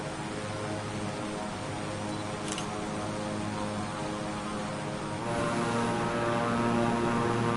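Steady propeller aircraft engine drone in Microsoft Flight Simulator 2024, a continuous broadband roar with a low humming tone that grows slightly louder partway through, with no voices.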